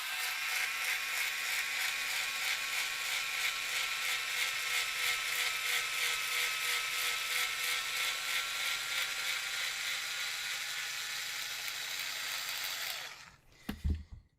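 An electric screwdriver drives a screw while a 3Racing Cero M225 mini chassis kit is assembled, giving a steady, close, high whir for about thirteen seconds before it stops with a few clunks.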